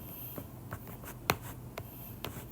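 Pen or marker scratching across paper or a board during a chemistry lesson, a few soft, close strokes and taps scattered over a quiet room tone.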